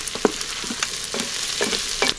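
Ingredients for Chinese sticky rice are stir-fried in a pot, a close hissing sizzle with quick clattering taps and scrapes of a spoon as they are tossed around, with no speech.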